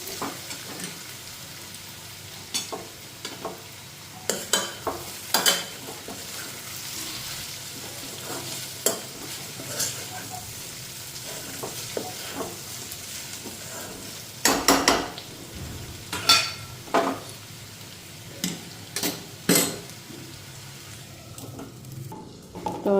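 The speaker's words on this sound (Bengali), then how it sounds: "তো ভাজাটা দেখখানি কদ্দুর হইল।" Food fries quietly in refined oil in a pan with a low, constant sizzle, broken by intermittent scraping and clinking strokes as it is stirred.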